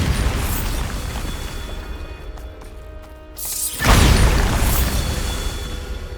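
A Bombarda spell detonates in Hogwarts Legacy, a loud sudden blast that bursts in mid-clip after a quieter, rumbling stretch, then a sustained roaring wash of debris and noise that fades slowly.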